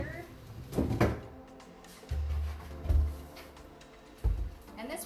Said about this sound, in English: let me get my last drawer out of here.